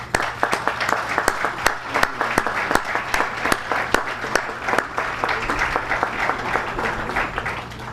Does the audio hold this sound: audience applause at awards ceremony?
yes